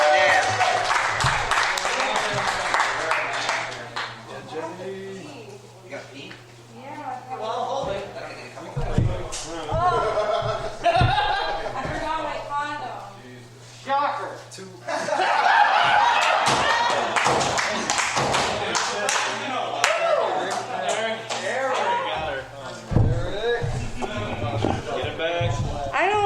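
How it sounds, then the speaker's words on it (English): An audience applauds and cheers at a comedy club while a host speaks loudly over the crowd, with the clapping rising and falling in bursts under the amplified voice. "And keep those claps going for Jenny Rodriguez, everybody."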